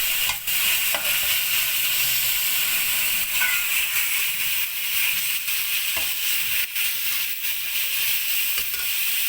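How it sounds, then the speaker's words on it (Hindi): Chicken fries with capsicum and a medium carrot in a pan for pasta, giving a loud, steady close sizzle and hiss with occasional stirring scrapes. "इसको हम इसके साथ 2 मिनट फ्राई करेंगे।"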